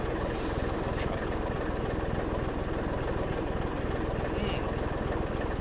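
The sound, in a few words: truck engine with straight pipe exhaust, Farm Sim 25 video game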